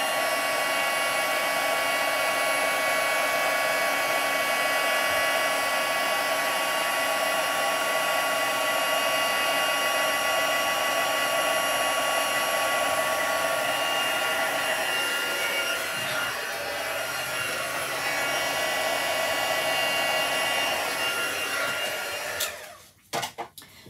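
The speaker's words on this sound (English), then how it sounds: "having a heat tool is helpful when you're using pigment ink like the craft ink" A heat tool blows steadily for over twenty seconds to dry white pigment craft ink in papercrafting, a loud continuous whirring hiss close by, cutting off abruptly near the end.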